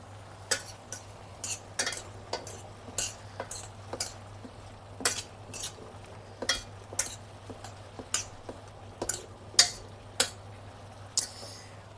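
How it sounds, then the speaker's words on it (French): A utensil stirring food in a wok, a regular series of sharp scraping clicks and knocks about once a second over a low steady hum, close and moderately loud. "Voilà, on remue le wok."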